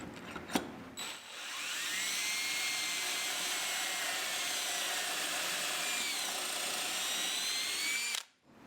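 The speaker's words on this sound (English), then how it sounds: "Clamp it in place, and then I drill these 3 holes." Power drill boring three holes through clamped wood in a school shop, a steady high whine running continuously for about seven seconds after a short click, then cutting off abruptly.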